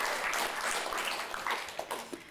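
An audience at an evening Commonwealth Club event in California claps in a brief, soft round of applause, a steady patter of many hands heard from a distance.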